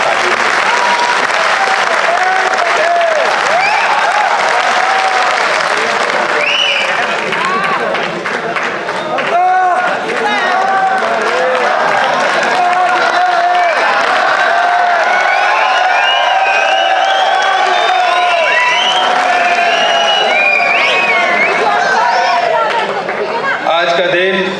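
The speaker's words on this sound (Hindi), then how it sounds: "आमंत्रित करते हैं जोरदार तालियों।" Loud, sustained applause from a large crowd at a book launch event fills the space, with scattered cheers and voices mixed in throughout.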